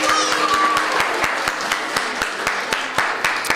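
A group of preschool children clap for themselves: lively, fairly loud applause with sharp individual claps that continues steadily throughout.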